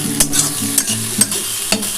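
Chopped onion, ginger, garlic and tomato fry for a dhaba-style egg tadka, with a loud, close sizzle. Quick scraping stir strokes against the pan come in a regular rhythm, about two each second.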